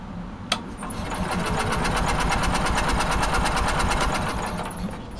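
A Generac or Onan generator engine cranking on a cold start, a loud steady rapid chugging of the starter that runs for several seconds after a sharp click.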